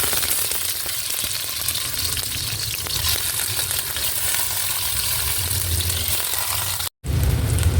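Tofu frying in hot oil in a pan, a steady close crackling sizzle that runs without pause, with a brief cut to silence near the end before the sizzle resumes just as loud.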